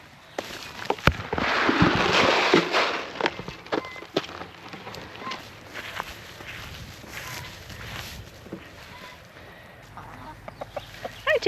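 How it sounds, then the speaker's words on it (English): Chickens on a homestead farm cluck and squawk loudly up close, with a busy burst of calls early on followed by scattered clucks and other bird noises. "Chickens."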